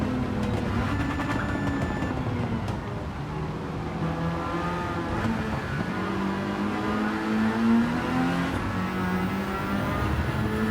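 The rotary engine of the RE Amemiya Mazda RX-7 race car in Gran Turismo 7 drones steadily at high revs, pitch rising and falling through gear changes, continuous and fairly loud with no voices over it.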